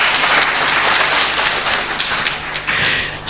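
A hall audience breaks into loud, dense applause, a steady wash of many hands clapping at once that carries right through the moment with no voices.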